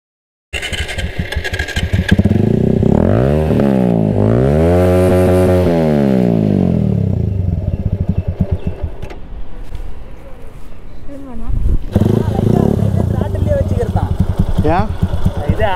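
A motorcycle engine is loud and close as the throttle is held at partial opening during wheelie practice, rising and falling in pitch through several revs, then settling into a rough steady run.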